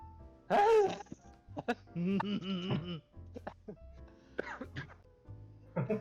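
A video game character gives a series of harsh coughs and throat-clearing rasps, close and fairly loud, in uneven bursts separated by short pauses.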